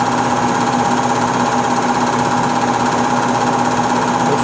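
PM-950V single-phase 3 horsepower milling machine running with a cheap fly cutter, a steady close mechanical hum with a constant whine and rapid even pulsing, unchanging over the few seconds with no speech.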